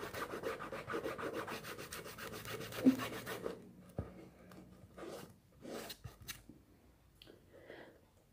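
Glued paper is pressed and rubbed onto a cardboard box in quick, rhythmic strokes that stop partway through, followed by quiet, scattered scrapes and taps.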